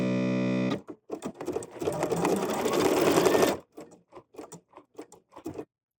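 Kimberbell 790 Pro embroidery sewing machine running a button sew-on stitch, starting after a short electronic tone with a rapid, buzzing stitching burst of about three seconds, then a series of quieter short mechanical clicks and taps.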